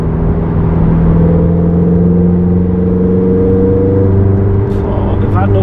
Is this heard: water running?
no